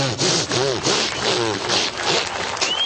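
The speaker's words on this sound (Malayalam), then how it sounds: "ഇതേ ബ്ലേഡ് വെച്ച് പ്ലൈവുഡ് കട്ട് ചെയ്യുന്ന ശബ്ദം." A saw blade cuts through plywood in a close, loud, continuous rasping run of repeated strokes that lasts the whole few seconds.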